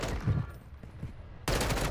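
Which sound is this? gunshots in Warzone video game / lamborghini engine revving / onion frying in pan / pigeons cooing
gunshots in Warzone video game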